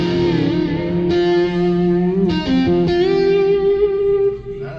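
Overdrive electric guitar voice on a Korg Pa5X or Yamaha Genos 2 arranger keyboard, playing sustained, slightly distorted chords and held notes with steady loudness throughout, clear and close with no talking.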